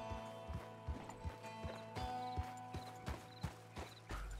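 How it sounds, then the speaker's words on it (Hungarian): Horse hooves in the video game Red Dead Redemption 2, an even run of about a dozen clip-clop hoof falls at a walking pace, moderately quiet, with light creaks of tack alongside. "Állj meg, ló!"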